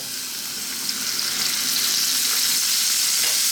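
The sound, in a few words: beef frying in sunflower oil in a wok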